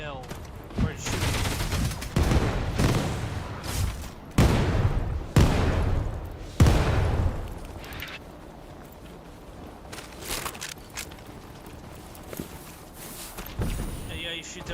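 Gunfire from shooting at scorpions in the Outpost Infinity Siege video game: rapid, loud volleys of shots that come in bursts, then settle into sparser, quieter cracks, with a voice talking over the shooting.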